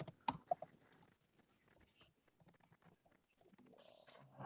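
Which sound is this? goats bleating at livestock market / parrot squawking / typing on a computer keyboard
typing on a computer keyboard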